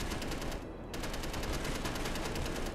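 Rapid continuous gunfire from a weapon in the Space Engineers video game, a dense unbroken burst lasting about three seconds with a brief thinning partway through, loud and close with no talk over it.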